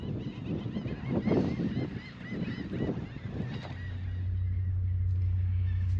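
A flock of laughing birds honking and cackling in noisy overlapping bursts at Stocking Island, fading out as a steady low engine-like hum takes over.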